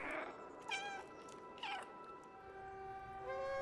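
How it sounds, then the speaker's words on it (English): A cat meows several times in the video game Stray, short clear calls spaced apart over a quiet background, ending with a longer drawn-out meow. "there is a dedicated meow button, as is expected from a game where you play as a cat"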